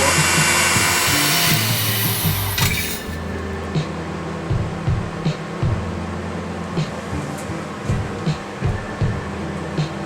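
A spinning wooden tabletop tree on a lathe being polished with a cloth, a loud steady motor whir with a high hiss that drops after a few seconds, then lower humming with rhythmic rubbing pulses.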